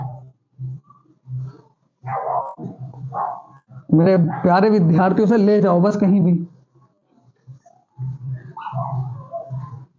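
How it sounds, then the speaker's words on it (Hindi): A dog barks in short bursts, twice early on and again near the end, between stretches of someone speaking close to the microphone. "वो हर टाइम जब ही भौंकेगा जब मैं वीडियो बनाऊंगा"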